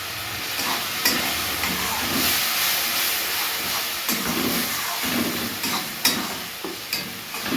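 Tomato paste frying in a pan for chicken kosha, a steady sizzling hiss close by with several louder stirring scrapes and clinks spread through it, with no voices.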